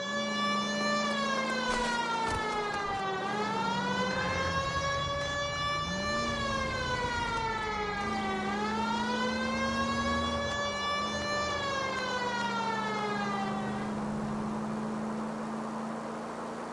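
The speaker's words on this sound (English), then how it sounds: "People might move out of the way quicker if you use the siren." Police car siren in the video game L.A. Noire wails loudly and continuously, rising and falling in long sweeping cycles over a low engine hum, then cutting off near the end, leaving only the motor drone.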